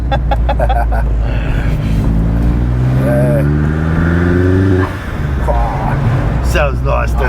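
A car fitted with a new turbo and a new clutch fires up and revs, its engine note rising and falling in several sweeping pulls, with people talking over and around it.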